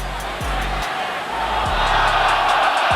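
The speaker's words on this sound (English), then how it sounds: "A lot of the crowd screaming" Rugby stadium crowd screaming and roaring in a dense, loud wash of voices that holds steady and swells toward the end, with low droning tones beneath.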